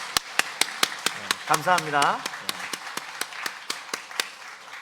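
A church congregation claps in a steady, rhythmic beat of sharp, evenly spaced claps, while someone speaks briefly over the applause.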